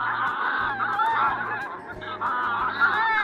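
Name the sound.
goose honking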